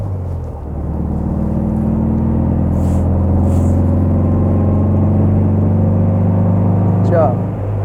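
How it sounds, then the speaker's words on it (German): A black 1964 Porsche 356 C Coupé with a four-cylinder boxer engine driving, a loud, steady low engine drone heard from inside the car, holding an even pitch with a brief rise near the end. "Der kräftige Boxersound, den man hört, den gibt es ja heute in der Art leider nicht mehr."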